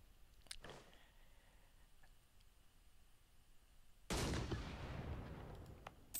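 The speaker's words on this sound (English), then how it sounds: "enough of cannon fire." Cannon fire from the strategy video game Europa Universalis IV: a sharp shot near the start, then a loud, dense roaring barrage bursting in from about the midpoint and rumbling on to the end.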